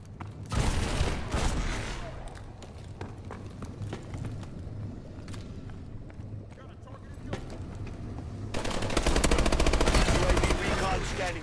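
Rapid automatic gunfire crackles through a 4 vs 4 Team Deathmatch in Call of Duty Advanced Warfare, near and loud, with dense bursts building toward the end amid game radio voices and talk.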